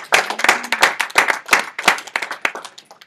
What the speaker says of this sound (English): Round of applause for Robby.